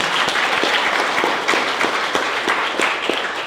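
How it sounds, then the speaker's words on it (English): Dense, loud audience applause in a venue during a university venture competition finals, many hands clapping continuously throughout, with a few sharper individual claps popping out near the front. "Let's give them a round of applause."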